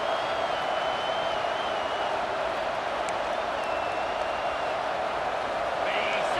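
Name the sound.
stadium crowd roaring in EA Sports College Football 26 video game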